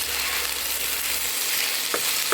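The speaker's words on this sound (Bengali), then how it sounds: "এখানে আলুটা ভাজতে দিয়েছি" Potatoes fry in oil in a wok, a dense steady sizzle up close with a low hum fading early and two brief knocks of a utensil near the end, no talking.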